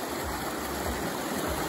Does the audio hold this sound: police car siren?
no